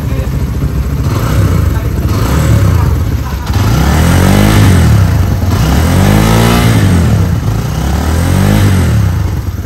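A Skygo Monarch Tempest 250 motorcycle engine is revved repeatedly up and down, loud and close, rising and falling in several sweeping surges over a continuous idle rumble.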